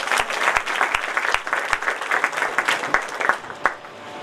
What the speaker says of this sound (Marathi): त्यांचे जोरदार टाळ्या वाजवून आपण कौतुक करूया.